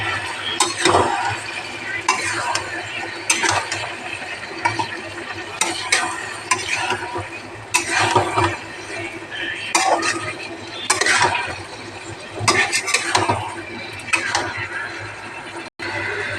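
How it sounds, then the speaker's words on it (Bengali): Meat stir-fried in a pan with tomatoes going in, a spatula scraping and clanking against metal in repeated strokes over a steady sizzle, loud and close, with no talking. "দেখো আমার মাংস এবার সব কষাই নিয়েছি, এবারে দিয়ে দেবো এই যে টমেটো।"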